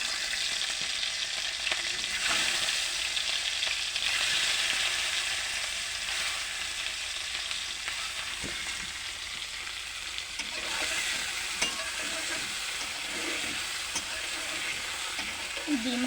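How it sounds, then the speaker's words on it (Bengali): Eggs frying in hot oil while being stirred, a steady sizzle with scraping stir sounds and small clinks, fairly quiet and without talk. "তেল গরম হয়ে গেলে তারপরে সে ডিমগুলো দিয়ে দেব"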